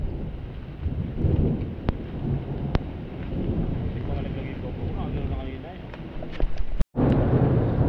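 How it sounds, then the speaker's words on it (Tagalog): Thunder rolls through a heavy rainstorm during a squall on a tordil fishing trip, a loud sustained rumble blended with rain and wind buffeting, briefly cutting out near the end. "Kulog at kidlat."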